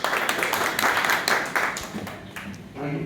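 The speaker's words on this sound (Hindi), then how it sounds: "जोरदार तालियों के साथ।" Applause at a journalists' New Year gathering in a hotel, hearty clapping from a roomful of people, steady and close for about three seconds before tapering off.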